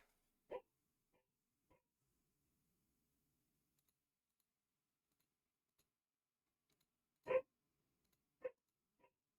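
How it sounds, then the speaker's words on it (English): A few faint, distant barks spaced far apart, with a short one near the start and a cluster of sharper barks later amid near silence. "Sorry if you hear a barking menace."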